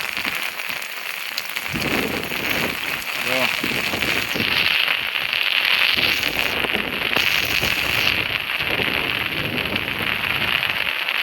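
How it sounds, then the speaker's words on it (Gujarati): Heavy July rain pours down in strong wind over flooded farm fields, a loud, continuous hiss and patter throughout, with someone speaking briefly over it. "પવન એટલો છે મિત્રો, અને વરસાદ બહુ પડ્યો છે।"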